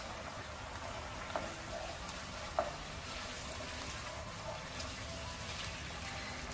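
Green pepper frying in a hot pan, giving a steady, moderate sizzle with a couple of brief clinks and a voice speaking softly over it.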